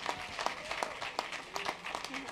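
Audience applause at a church sermon, a patter of claps mixed with voices and talk in the room, moderately loud throughout.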